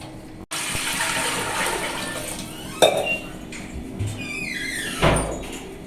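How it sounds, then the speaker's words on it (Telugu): Water splashes and gurgles into a pot for cooking rice, with a couple of metallic clinks and knocks, fairly close, no talking. "వాటర్ పోసుకుని రైస్ పెట్టుకుని ఉడికించుకుందాం"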